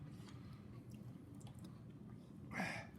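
Close, quiet chewing of cheese balls, soft wet squishes and crunches in a steady rhythm with a brief louder bite toward the end, no talk over it.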